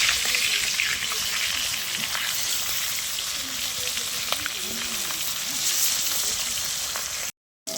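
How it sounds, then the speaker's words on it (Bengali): Chela fish sizzle steadily in a pan over a wood-fired clay stove outdoors, a dense continuous crackle with occasional pops, moderately close. "মাছগুলোকে উল্টে নেব, লাল লাল করে ভেজে।"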